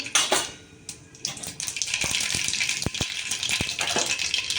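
Mustard seeds hit hot oil for a crispy dosa tempering, giving a steady sizzling hiss with sharp pops and crackles up close after a brief clatter of a pan, with no talking.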